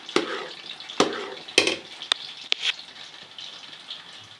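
Halwa with raisins cooking in a pan as it is stirred, giving a few distinct scraping clacks of the spoon over a soft, faint sizzle, with no voices.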